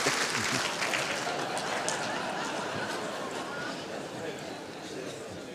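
Spectators at the 2018 World Indoor Bowls Championships clap steadily after a shot, a dense patter of hands that thins slightly over a few seconds, with a commentator's voice running over it.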